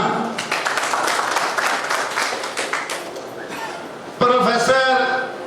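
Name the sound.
applause welcoming a speaker to the stage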